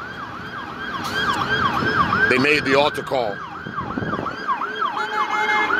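A police car siren wails along a street in a rising and falling pattern, loud and near with passing traffic underneath, while a person speaks over it.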